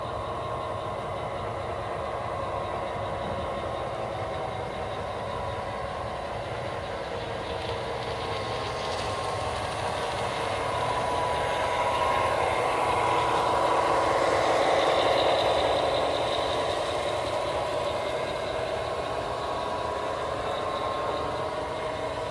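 Model train pulling a heavy homemade track cleaner around the outer loop of a layout, a steady low mechanical hum and rumble that swells slightly louder midway as it passes closer, then eases back.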